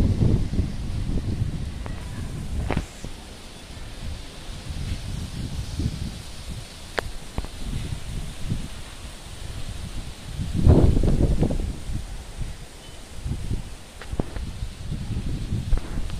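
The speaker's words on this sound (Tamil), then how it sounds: "எடுக்கப்பட்ட வீடியோவை பாருங்கள், எப்படி வேகமாக காற்று வீசுதுன்னு" Strong cyclone wind from Cyclone Gulab in Negombo, Sri Lanka, roars and buffets the microphone steadily, with gusts swelling louder midway, rustling throughout and no talk.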